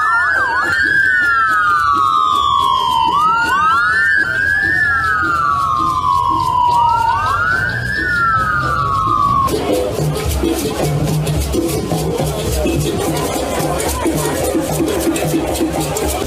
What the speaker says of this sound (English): sirens are heard blaring as a fleet of vehicles roll into a renewed hope event